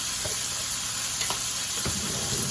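Onions and garlic sautéing in a pan give a steady close sizzle with a few soft stirring scrapes and clicks, no talking.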